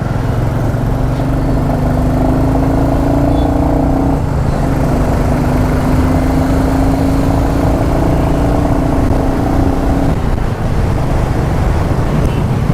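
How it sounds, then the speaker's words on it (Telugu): A Royal Enfield Classic 350 motorcycle rides at speed with its engine running louder than usual, a steady droning hum under heavy rushing wind, loud and continuous with a brief dip in pitch partway through. "ఎందుకో బైక్ సౌండ్ కొంచెం ఎందుకో తేడాగా వస్తుంది, గట్టిగా వస్తుంది అనమాట"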